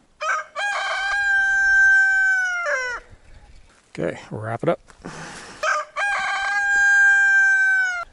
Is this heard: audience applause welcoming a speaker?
no